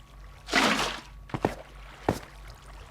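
Water placed in Minecraft makes a short pouring splash, followed by a few soft clicks and taps of block placement, fairly quiet with no voice.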